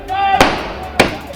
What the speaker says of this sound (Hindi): आतिशबाजी होती हुई